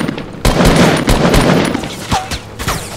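Rapid, irregular bursts of gunfire in Fortnite Battle Royale Season 5, loud close shots cracking over a busy background of game sounds.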